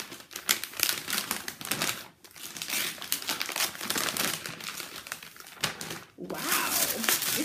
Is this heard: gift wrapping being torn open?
yes